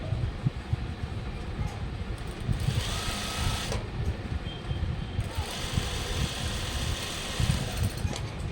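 A sewing machine stitching around a blouse neckline runs steadily and close, a continuous rattling motor hum with fast needle ticking and slight speed changes throughout.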